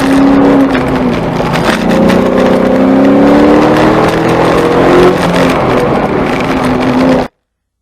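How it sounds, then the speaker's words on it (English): Exhaust of a 1979–2004 Ford Mustang running an autocross course, a steady loud drone whose pitch rises and falls as the throttle is pressed and lifted, continuous for about seven seconds with no talk. "You'll be able to hear when you're getting on and off the gas, and when your throttle inputs aren't smooth."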